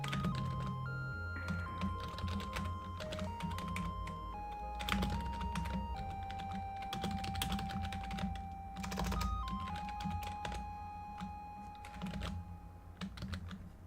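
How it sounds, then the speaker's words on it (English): Typing on a computer keyboard during a game-development session, a continuous stream of close, quick key clicks and thunks over a faint steady background tone. "Stop typing, it doesn't work"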